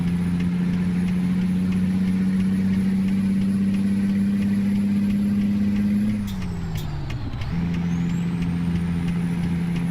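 Big rig truck in the video game American Truck Simulator, its engine idling with a loud steady hum before the air brakes release in a sharp hiss and the engine note dips, with no one speaking.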